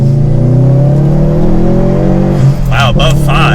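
A Subaru WRX STI engine revs hard under acceleration, a loud, steady rising drone close by, with people talking over it near the end.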